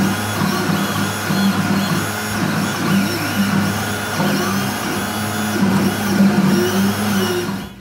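An X-Carve CNC machine drives a Sharpie across a piece of wood to draw a logo, its stepper motors giving a steady whirring, buzzing drone with shifting tones that runs continuously and fairly loud, with no voices.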